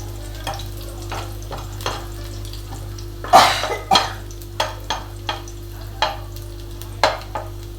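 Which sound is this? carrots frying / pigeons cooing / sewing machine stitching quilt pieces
carrots frying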